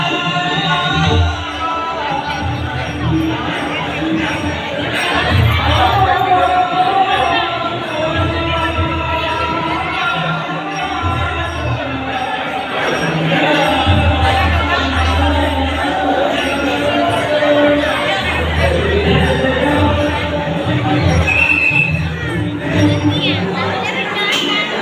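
Dense crowd chatter echoes around Birla Mandir temple, many overlapping voices murmuring and calling at a steady level, with low rumbling and scattered shouts mixed through the busy throng.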